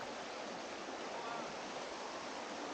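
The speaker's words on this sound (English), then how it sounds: "I arrived at the river at the bottom of the valley." A river rushes at the bottom of a valley in Liechtenstein, making a steady, dense wash of flowing water that stays constant and fairly close throughout, with no voices.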